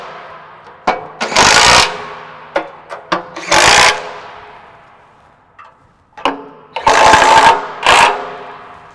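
A power tool with a 9/16 socket runs down bolts while a JBS E-Series beater is taken apart. It comes in several short, loud whirring bursts of about a second each, with brief sharp clunks and quiet gaps between them.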